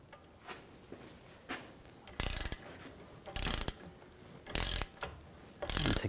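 Wrench work on the nut of a front right CV axle on a 2009-2010 BMW 535i xDrive, heard as several loud, close bursts of metallic ratcheting separated by quieter clicks and handling noise.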